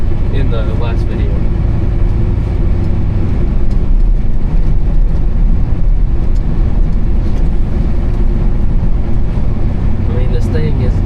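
Old diesel vehicle, revived after ten years sitting, driving along a road, giving a loud continuous engine and road rumble throughout with people talking over it.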